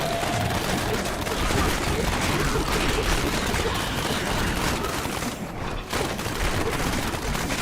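Rapid Demon Hunter strafe fire in Diablo 3, a dense continuous barrage of crackling, gunfire-like shots with booming impacts, loud and steady with almost no pauses throughout.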